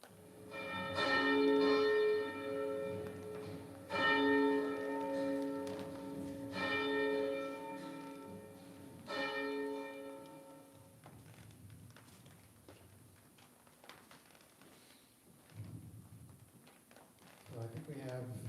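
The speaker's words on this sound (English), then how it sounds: "Ring out, wild bells, and let them die." Church bells ring in a steady, repeating peal, loud at first and then fading out as the ringing stops, leaving quieter background room sound.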